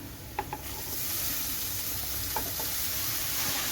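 Chopped green amaranth leaves tip into a hot pan, giving a steady close sizzle with a few soft scraping clicks near the start and no voices.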